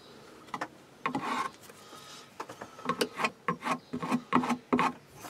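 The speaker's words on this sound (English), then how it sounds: "wipe the excess glue off. I'll just get a screwdriver to get it off." A screwdriver scraping excess glue off a wooden box, giving a series of short, rasping strokes in irregular rhythm, close and fairly quiet, growing quicker and more regular toward the end with no talk over it.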